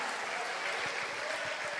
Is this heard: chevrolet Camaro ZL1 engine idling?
no